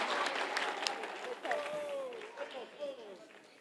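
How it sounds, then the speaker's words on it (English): Clapping from an audience in a main hall at an agricultural job fair awards, moderately loud under an announcer's voice and some crowd noise, fading as the talk continues. "Can we clap for them even before we mention them?"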